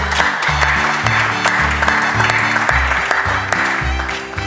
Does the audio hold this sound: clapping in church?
yes